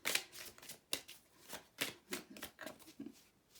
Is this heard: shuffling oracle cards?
yes